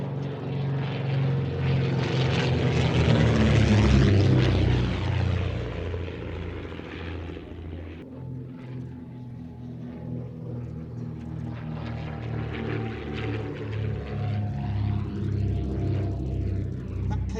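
A vintage racing aircraft powered by two Gipsy Six R racing engines drones overhead at an air show, a loud propeller roar swelling to a peak early on, then holding a steady, slightly quieter hum as it passes.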